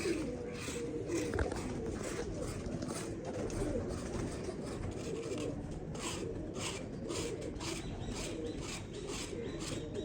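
Pigeons coo in a steady, overlapping murmur throughout, with soft rustling and scratching from a crowded flock of old racing pigeons close by.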